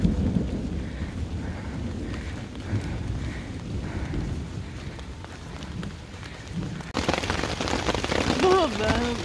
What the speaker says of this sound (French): Il pleut. Il y a de l'orage.